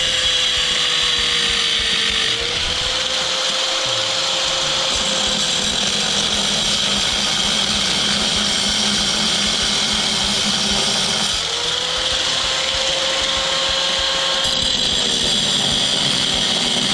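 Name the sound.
grinder cutting screwed-down parts of an electric motor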